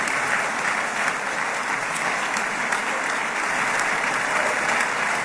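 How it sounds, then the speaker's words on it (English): Audience applause at the end of Donald Trump's speech, a dense continuous roar of clapping from a large crowd, steady and loud throughout. "All right, all the applause."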